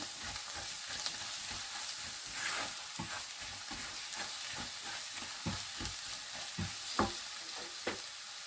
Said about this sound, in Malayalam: നമുക്ക് ആവശ്യത്തിന് ഉപ്പ് ആഡ് ചെയ്ത് കൊടുക്കാം നല്ലപോലെ ഒന്ന് മിക്സ് ചെയ്യാം